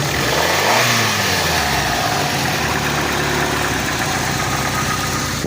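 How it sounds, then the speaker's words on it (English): A 1989 Plymouth Voyager Turbo engine revs up and settles into a steady, loud idle close by, a continuous hum with no talking. "the motor runs great in this thing"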